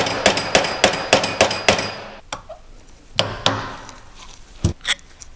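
Hammer striking a propshaft universal joint during a replacement, a quick run of about eight sharp metallic taps followed by a pause and a few more scattered blows, close and loud.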